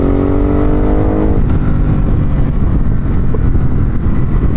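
A 2019 Ducati Hypermotard 950 SP with a Termignoni exhaust roars close by, its engine note climbing briefly before settling into a loud, steady, throbbing rumble that continues throughout.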